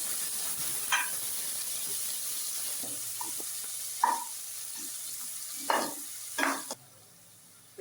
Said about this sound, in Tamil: கண்ணாடி பதம் வர வரைக்கும் வதக்கி எடுத்துக்கோங்க